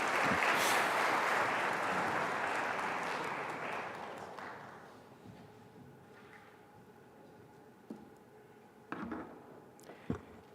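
A crowd's applause at a University of Nairobi student officials' swearing-in ceremony, full and steady at first, fades away over several seconds, leaving a quiet room with a few scattered knocks.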